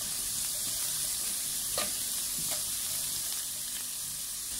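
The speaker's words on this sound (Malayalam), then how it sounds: "നന്നായി ഒന്ന് ഇളക്കി കൊടുക്കാം." Sliced onions sautéing with a pinch of salt in a pan for a Kerala egg curry, a continuous close sizzle with a few soft scraping stirs of a spoon.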